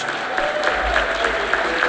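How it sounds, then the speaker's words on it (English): Brief burst of audience applause at an educators awards ceremony, a dense patter of many hands clapping at moderate volume, heard close. "Let's give another round of applause for all of our nominees."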